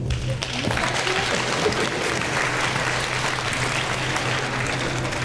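Sustained applause from a crowd at a village's 775th-anniversary celebration held in a school in Kiełpino Kartuskie, with steady clapping filling the room throughout.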